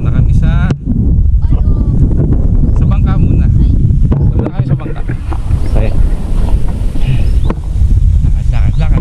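A boat ride at sea off Palawan, with steady loud wind buffeting the microphone over a rumbling hull and water noise throughout, while people's voices come through faintly.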